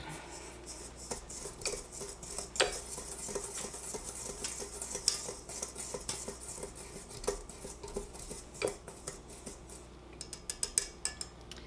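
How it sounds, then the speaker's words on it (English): Ingredients including sugar are whisked together in a bowl, heard as a steady close rhythmic clatter of a whisk against the bowl with sharp metallic taps, louder toward the end. "And I just whisk that together."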